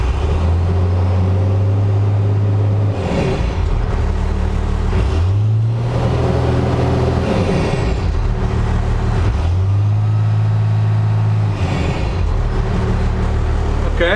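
A step van engine idles loudly up close and is revved three times, each burst of throttle rising in pitch before settling back to a steady rumble.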